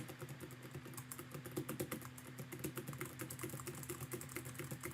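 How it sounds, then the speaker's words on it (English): Rapid, steady typing on a computer keyboard, a continuous run of close, quiet clicks with no talk. "So if I click here and just start typing text"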